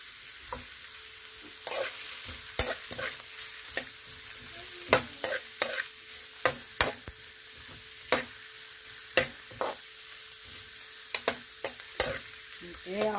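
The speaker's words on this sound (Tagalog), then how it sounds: "ilalagay ko na yung carrots. Tapos haluin natin." Carrots stirred and sautéed in a pan, cooking for a stir-fried noodle dish with sardines: a quiet continuous sizzle broken by frequent crisp scrapes and taps of the utensil against the pan, up close with no talking.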